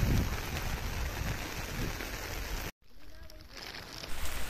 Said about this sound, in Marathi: हे बघा पाऊस थांबत नाही, बघा दाखवतो